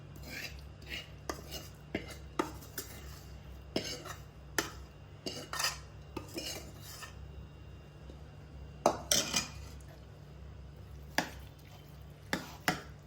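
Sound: spoon mixing tempering into dry chickpea dal

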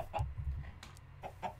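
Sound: chickens clucking in Minecraft video game

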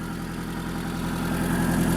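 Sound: Maruti Zen car engine idling

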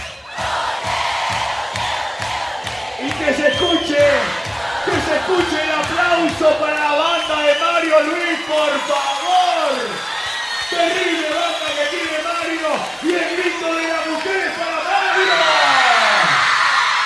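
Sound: crowd of women screaming and cheering

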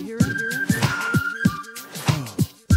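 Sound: man whistling

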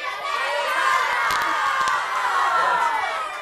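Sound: school audience cheering

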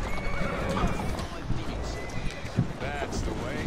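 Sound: horse galloping and neighing in Assassin's Creed Syndicate video game

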